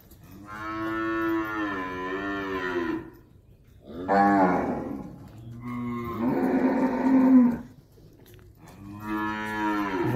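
Girolando dairy cows moo in long, deep, drawn-out calls, four loud bellows close by with brief quiet gaps between them.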